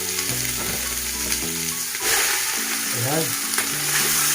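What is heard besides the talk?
salmon heads and bones frying with onions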